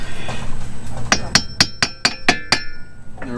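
Seven sharp metallic hammer blows ring out in a quick, even series while a car axle is being knocked loose, loud and close, with no speech over them.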